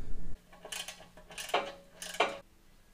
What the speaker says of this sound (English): I should be able to tap on the oil pan and get that bad boy removed